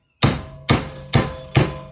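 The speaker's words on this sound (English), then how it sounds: "even a typical claw hammer is enough" A claw hammer strikes wire being bent into jump rings for chainmail, four sharp, evenly spaced metallic blows close up, each with a brief ringing decay.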